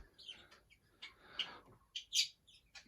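Pet birds chirp in a home reptile room, several short bright tweets scattered irregularly over a few seconds, fairly close and moderately loud with no talking.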